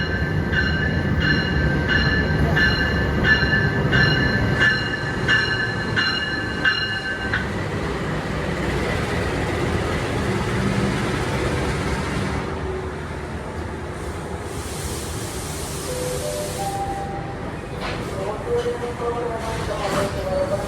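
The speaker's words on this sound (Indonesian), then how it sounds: "Ini jalur 6 masuk kereta api Argo Semeru dari Gambir," Argo Semeru train pulling into track 6 at an Indonesian station, a steady loud rumble of rolling cars with a chiming station announcement tone early on and squealing wheel tones near the end.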